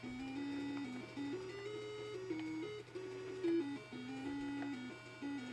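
Retro ZX Spectrum game music, a quiet beepy chiptune melody stepping through short sustained notes over a steady low tone, playing faintly in the background.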